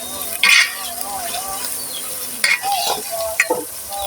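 Spoon stirring sauce into chicken in a pan for kacchi biryani, with a steady sizzle and a few louder scraping strokes while someone talks over it.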